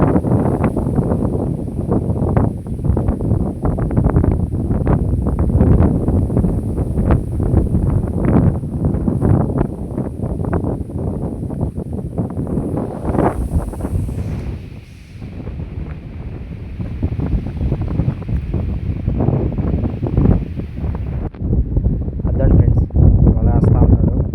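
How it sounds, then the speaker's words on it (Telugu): Strong wind roars and buffets the microphone without letup, with a voice partly buried beneath the gusts. "గాలి పట్టుకొని చల్లటి గాలి వస్తుంది"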